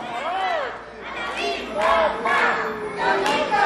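Excited voices of a group at a birthday party shouting together in a cheer, with overlapping high-pitched calls and yells rising in bursts throughout, close and lively.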